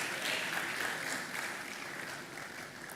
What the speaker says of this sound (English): Please clap until she takes her seat.